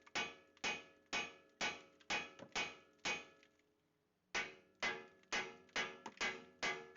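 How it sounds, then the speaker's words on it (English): A hammer strikes the steel steering knuckle of a 2005 Acura TL to shock a ball joint stud loose, giving about a dozen sharp metallic blows in a steady rhythm with a brief pause midway. "Here I am hammering the steering knuckle to shock the stud on"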